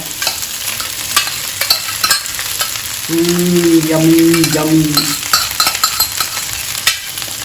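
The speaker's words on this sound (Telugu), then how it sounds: "ఈ ఆలుని ఇందులో పోపులో వేసేస్తున్నాను" Potatoes tipped into a hot tempering and stirred in a pan give a steady bright sizzle with scraping stir strokes, swelling louder midway; no one speaks.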